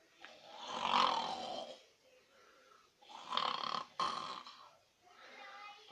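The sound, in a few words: man imitating a lion roaring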